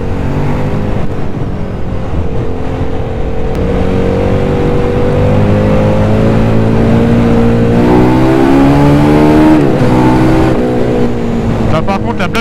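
A KTM Duke 990 motorcycle engine revs toward its limiter, a loud, close, steady mechanical drone whose pitch climbs and swells in rising sweeps near the end.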